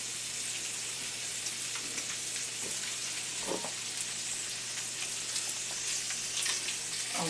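Polish kielbasa sausages sizzle as they brown in a pan, a steady close crackling hiss throughout with occasional soft pops and faint stirring knocks.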